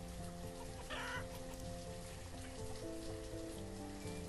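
Chickens cluck in a village in the city-building game Banished, a soft steady flock murmur over a constant ambient bed of rain-like hiss and background music.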